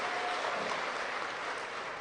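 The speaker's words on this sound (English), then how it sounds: "Please give him a round of applause." An audience applauds a panelist at a Trinidad street radio event, a quiet, steady patter of clapping heard from a distance for a couple of seconds.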